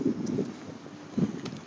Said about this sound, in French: Y a du vent ici à Grenoble, là.